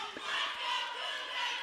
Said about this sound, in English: there goes the crowd trying to hype up the players, letting them know this game's not over yet